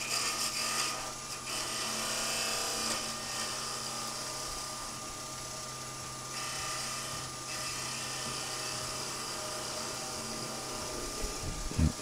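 A woodturning lathe spins a wooden finial while a tool held on its bevel cuts it, giving a continuous scraping, rasping hiss over a steady motor hum, with someone talking now and then.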